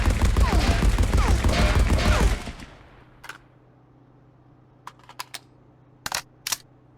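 A gun hip-fired with recoil control in Marauders: a loud, sustained burst of rapid automatic fire for about two seconds, then quiet with a few faint clicks.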